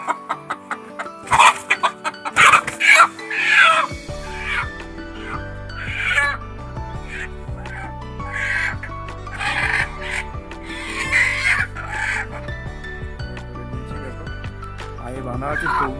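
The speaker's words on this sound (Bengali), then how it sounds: "এই যে ব্যাগে আমি খড় দিয়ে এই যে মুরগিগুলো ভর্তি দেখো।" Live native chickens packed into a bag with straw cluck and squawk near and loud, sharp bursts at first giving way to scattered clucks, while a person talks over them.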